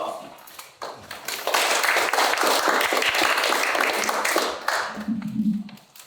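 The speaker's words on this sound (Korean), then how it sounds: "박수로." Audience applause at a political group's launch ceremony in Korea swells quickly into a dense, loud wash of clapping for a few seconds, then fades as a low voice-like murmur comes in.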